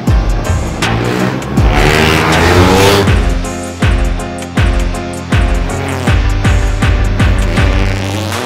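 An Opel Corsa Rally 4 with a 1200 cc, 210 hp engine and five-speed sequential gearbox revs hard and accelerates, loud and close, climbing through repeated rapid upshifts with sharp cuts between gears.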